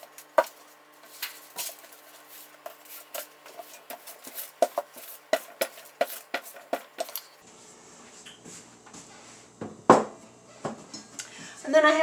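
Cherry pie dough handled and set into a pan on an old cutting board, with soft taps, pats and light clinks of the pan close by, a steady run of small knocks that shifts to scraping and rustling near the end.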